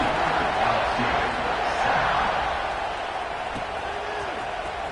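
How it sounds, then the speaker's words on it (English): A football stadium crowd waits before kickoff at an Ohio State vs Penn State game, a loud, continuous murmur and roar of many voices spread wide across the stands, steady and slowly easing off. "They're set to kick it off, and this crowd now ready to get behind them."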